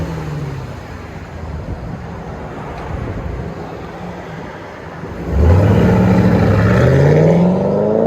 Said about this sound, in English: Mustang GT straight pipe